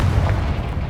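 A Confringo explosive spell in Hogwarts Legacy lands as a single loud, deep boom with a rumbling blast that fills the whole second.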